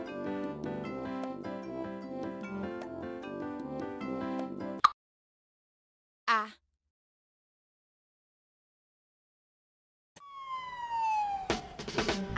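A siren-like tone sweeps downward near the end of a children's ABC hip hop song about calling an ambulance, following a stretch of upbeat music, a long silence and a brief chirp.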